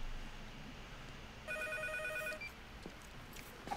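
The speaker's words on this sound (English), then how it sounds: "The telephone rang." A telephone bell rings inside a scene playing on a television, one steady electronic ring lasting about a second in the middle, heard alone at moderate level over faint room background.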